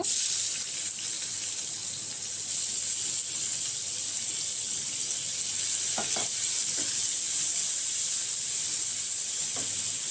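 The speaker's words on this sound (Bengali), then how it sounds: "পেঁয়াজটাকে ভালো করে ভেজে নেব" Two large chopped onions fry with a constant, loud sizzling hiss in a pan, broken by a few light knocks of a spatula.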